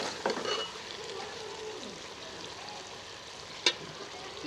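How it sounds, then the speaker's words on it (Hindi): Pumpkin and meat for kaddu gosht frying in oil in a pot, a soft steady sizzle with a few stirring scrapes and one sharp clink near the end, no talk. "कद्दू गोश्त को भूनते हुए मुझे 6 से 7 मिनट हो गए हैं।"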